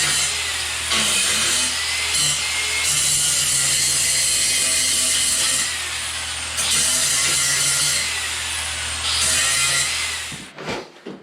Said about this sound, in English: I'm going to use the grinder to do a smooth finish on it